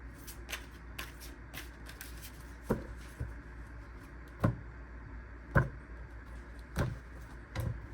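Playing cards being shuffled up close, crisp riffles and taps arriving in separate bursts at uneven intervals against a quiet background.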